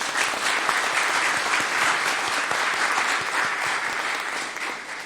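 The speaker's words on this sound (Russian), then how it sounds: "Аплодисменты вам." Loud, dense applause from an audience greeting WorldSkills champions and medal winners, steady and enthusiastic throughout, easing slightly toward the end.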